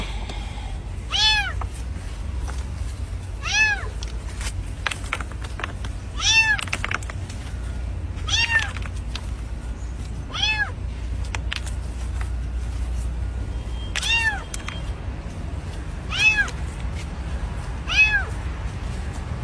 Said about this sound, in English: a kitten was found